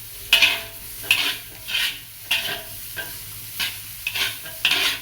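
A spatula scrapes and stirs seasoning and sugar frying in a pan, about eight regular strokes over a soft, continuous sizzle, close and clear with no talking.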